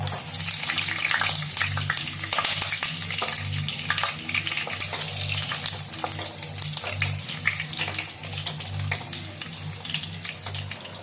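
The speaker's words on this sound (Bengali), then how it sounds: "তেল গরম হয়ে গেছে, আমি এবারে আলুটা ভেজে নিলাম।" Potatoes fry in hot oil with a loud, dense crackling hiss, steady throughout, over a low constant hum.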